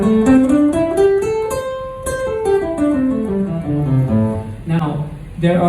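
A guitar plays a basic minor pentatonic fingering exercise, climbing and then descending in steady single notes with a few short breaks. The notes are clear and close, and no one talks over them.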